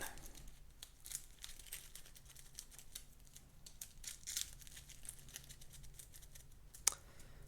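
Marvel Champions cards being shuffled on a tabletop, a quiet run of soft riffling and crinkly flicks with a sharper snap near the end, no talking.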